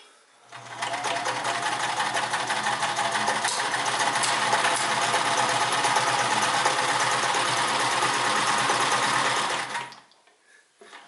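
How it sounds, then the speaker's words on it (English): A Kenmore 158 series sewing machine runs a 3-point zigzag stitch through marine vinyl, a loud, close, continuous mechanical whir lasting about nine seconds before it stops. "I'm going to just start out with the 3-point zigzag and run the machine through all the different stitches"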